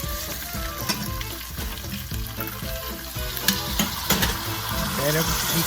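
Turkey wings fry and brown in a hot pan with steady loud sizzling and crackling close by, broken by occasional stirring scrapes and spatters throughout.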